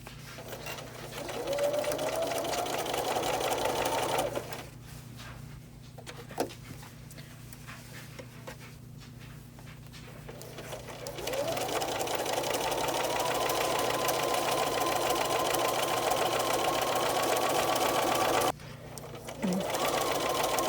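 A sewing machine stitches elastic onto a fitted sheet in two long runs of fast, rhythmic motor whirring and needle clatter, pausing in between, while a faint dog whimper and background hum carry on beneath.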